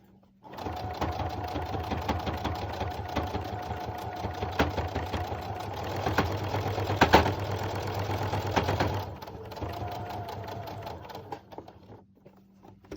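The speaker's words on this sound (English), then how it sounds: "you always want the machine to pull the fabric for you" A sewing machine runs steadily, stitching fabric for a face mask with a continuous mechanical whir and rapid needle clatter that holds for most of the stretch before easing off near the end.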